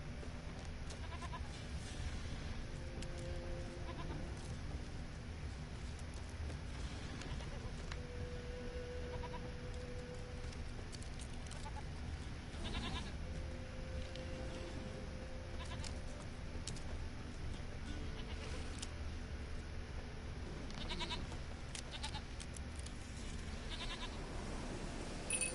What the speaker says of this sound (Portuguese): tá escutando cabras